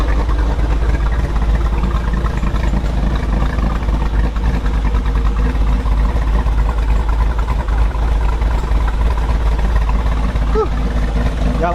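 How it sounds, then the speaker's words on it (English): A cammed 2022 Jeep Rubicon 392 V8 idling on a base map, a loud, steady deep rumble with a choppy lope, close and constant throughout. "got a base map in, it's idling pretty good."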